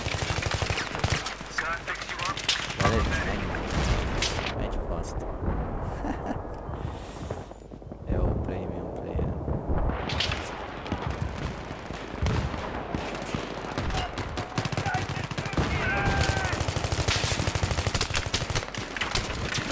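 Sustained Battlefield 3 multiplayer gunfire, with repeated automatic bursts and single shots rattling near and far, a brief lull midway, then heavy firing resumes amid wind noise and occasional talking.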